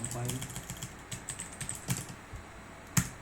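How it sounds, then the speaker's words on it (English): Keystrokes on a computer keyboard as a short shell command is typed, a quick irregular run of clicks ending in one louder key press, close and clear with no talk. "So when I type HH, which means npx hardhat"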